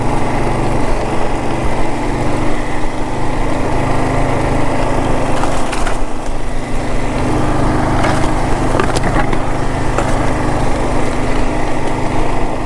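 A Kawasaki KLR 650 motorcycle runs steadily while riding over loose rock through bush on non-aired-down tires, engine drone constant with occasional clatter and bumps from the rocky ground, no talking.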